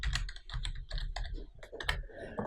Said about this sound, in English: Let me just type January